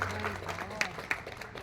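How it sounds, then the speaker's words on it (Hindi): An audience at an organ donation camp in Shyam Vihar, New Delhi, claps steadily at close range, a dense continuous applause with a few sharp individual claps standing out. "जोरदार ताली"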